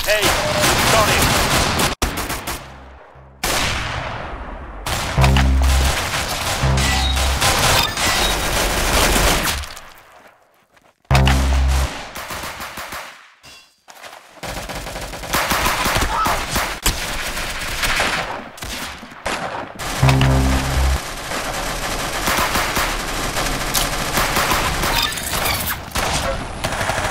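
Rapid gunfire in the Roblox shooter game Arsenal, dense automatic bursts and booming shots packed together, loud and near, broken by a few brief quiet gaps.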